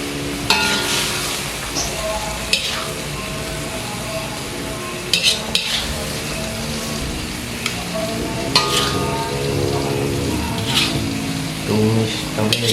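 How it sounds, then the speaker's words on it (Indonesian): Bean sprouts stir-fry in a pan with a steady sizzle and repeated utensil scrapes and clinks, close and fairly loud, with faint background voices now and then. "Tumis toge."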